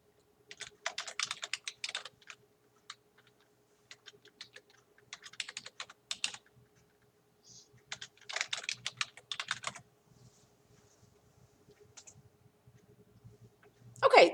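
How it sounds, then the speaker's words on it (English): Close, crisp typing on a computer keyboard while tabbing between table cells in a Word document: short bursts of keystrokes separated by silent pauses, over a faint steady hum, ending in a louder clatter. "you can use your tab key to go from one of these to the next cell"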